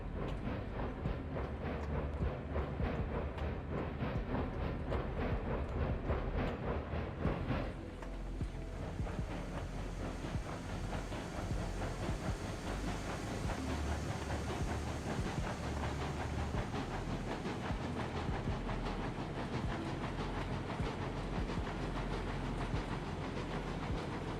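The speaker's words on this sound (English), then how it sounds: "Locomotive." Locomotive from a railroad-building video game running along its track, a steady hissing, rumbling rail noise with faint clickety-clack, loud and continuous, with a shift in tone partway through.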